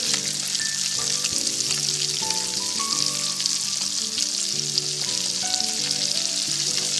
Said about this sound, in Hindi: तो हमने इसी लो फ्लेम पे फ्राई करना है।